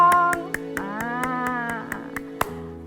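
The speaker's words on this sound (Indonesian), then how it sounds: "Tepuk tangannya dulu yang meriah." Regular, sharp hand claps at a children's Christmas service, about a dozen evenly spaced beats over a sustained musical tone, close and fairly loud.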